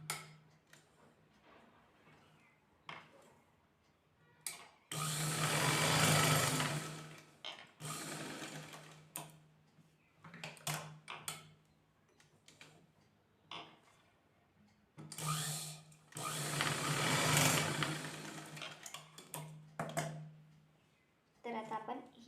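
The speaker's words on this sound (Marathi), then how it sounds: "त्यामुळे हे पहा अशी शिलाई मारून घ्यायची आहे आधी आपल्याला." A sewing machine stitches blouse fabric together with its lining in two long runs of steady mechanical whirring, with quieter handling noises and someone talking between the bursts.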